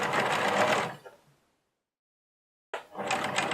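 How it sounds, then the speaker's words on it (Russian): Sewing machine stitching a straight seam along a fabric edge while making a key holder: a steady, close whirring run of about a second, a pause of silence, then the motor starts again. "Так как ткань не сыпется, я просто строчку прокладываю по краю."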